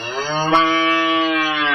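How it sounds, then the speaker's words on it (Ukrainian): A domestic cow lows in one long, loud, close moo that holds steady and alone for nearly two seconds, with no talking. "Так, це корова, це свійська тварина."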